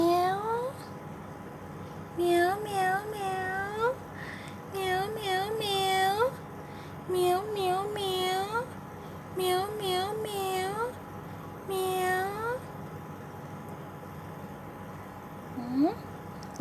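A kitten at a traffic light near That Luang meows repeatedly in short, high-pitched, wavering cries, one after another with brief pauses, close by over a faint background.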